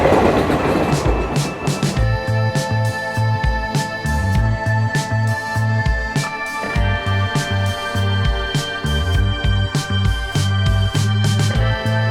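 A Konkan Railway train rolls along the rails close by, loud rhythmic clickety-clack of wheels over joints with a steady mechanical hum.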